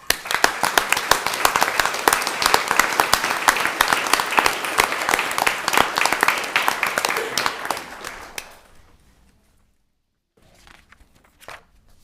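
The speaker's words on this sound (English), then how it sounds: "Please join me in giving our public works professionals a round of applause." Steady, dense applause from an audience at a town Board of Commissioners meeting in Fuquay-Varina, honoring public works professionals, sustained for about eight seconds before dying away, followed by a few faint scattered sounds.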